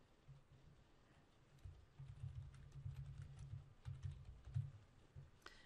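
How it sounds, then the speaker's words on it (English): Someone types a name on a computer keyboard while setting up a SharePoint team site, a faint, steady patter of soft key presses running the whole time. "I'm going to type in the name."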